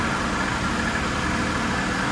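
A Mercedes car engine idling, a steady close rumble with no change in pitch or loudness, with no voices over it.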